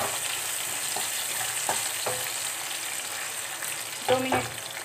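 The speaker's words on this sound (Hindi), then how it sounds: "दो मिनट आलू फ्राई होने देते हैं हम।" Potatoes frying in a pan with garlic already browned, a steady close sizzle running throughout, with a few utensil scrapes and a brief louder stir near the end.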